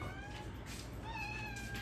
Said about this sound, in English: that's Callie the cat, not Alan the cat making that noise